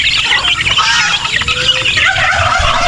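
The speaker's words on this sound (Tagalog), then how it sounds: "sa unahan naman, nandyan yung mga pabo natin. Breeders na pabo." Breeder turkeys gobbling and calling together on a farm, a loud, continuous flock chorus with mixed fowl noise and no speech.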